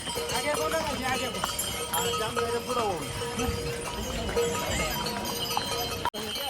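Horse hooves clip-clop steadily on the mountain trail from Kedarnath to Sonprayag beneath busy chatter and a tinny melody, with voices close by throughout.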